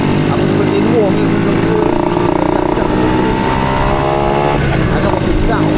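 A motorcycle engine revs loudly up close at a motor show, its pitch climbing and dropping in repeated surges, with voices talking over the noise.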